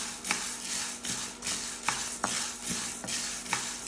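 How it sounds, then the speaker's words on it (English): Black beans being stirred while dry-roasting in a pan over medium-low heat, with a spoon scraping and clinking against the metal in soft, irregular strokes and a faint sizzle underneath. "Stir continuously to avoid burning."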